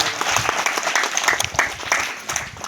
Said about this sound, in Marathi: सगळ्यांनी त्यांचं टाळ्या वाजवून स्वागत करूया।